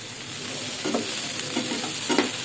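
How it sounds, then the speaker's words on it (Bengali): Colourful vegetables, including tomato, frying in oil in a pan for a paneer dish: a steady close sizzle with three brief stirring scrapes, no voices. "এভাবে একটু ভাজা ভাজা করে নিলাম সব কিছু দিয়ে।"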